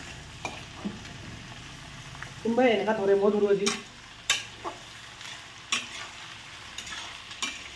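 Potatoes and mixed vegetables fry in a wok with a steady low sizzle and stirring scrapes, broken by a few sharp utensil clacks; a voice talks in the middle for about a second.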